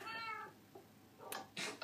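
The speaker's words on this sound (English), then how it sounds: "I could also choose a kitty cat." A house cat meows in Minecraft, with a few short mews followed by two louder, higher calls near the end, heard alone against a faint game background.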